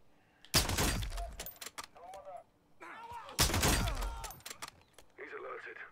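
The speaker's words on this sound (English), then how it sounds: "I'm gonna take the shot." Gunshots in the Call of Duty Modern Warfare 2 campaign, two sharp loud blasts about three seconds apart with a ringing tail, mixed with game voices talking around them.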